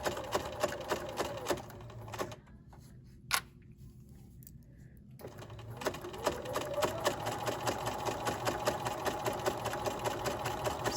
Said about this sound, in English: Sewing all the way to that edge, remove that last sewing clip.